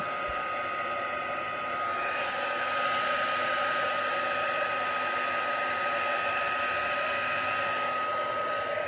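A hair dryer blows on paint splatters on a grungy mixed-media junk journal page, giving a loud, steady whooshing whir that runs unbroken from start to finish with no talking.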